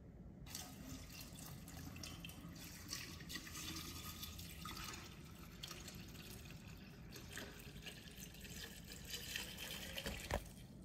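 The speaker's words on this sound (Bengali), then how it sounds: "এবার এই সাথে আপনি এর ওপরে জল ঢেলে দেবেন।" Water is poured over leaves and about one and a half spoonfuls of fennel seeds for a detox infused water, a faint continuous trickle and splash with small drips, very quiet and close, with no voices.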